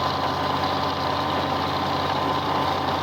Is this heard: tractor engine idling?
yes